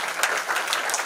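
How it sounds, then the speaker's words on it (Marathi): An audience at a ceremony honouring meritorious students on Ahilyadevi Holkar's birth anniversary claps loudly in welcome, a dense continuous burst of many hands. "जोरदार टाळ्या वाजून यांचा स्वागत करावं।"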